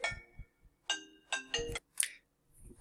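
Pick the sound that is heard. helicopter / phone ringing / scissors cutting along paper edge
phone ringing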